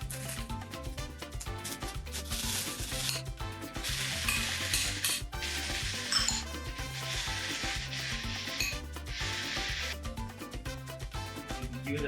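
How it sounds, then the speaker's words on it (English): Ground beef cooks with a dense, steady sizzle in a pan alongside chopped tomatoes, with the scrape and clatter of a utensil stirring throughout, close and loud for the whole stretch without any talk. "Give it a good mix and let it cook for a couple of minutes."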